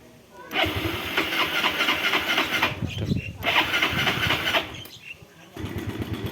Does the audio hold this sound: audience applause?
no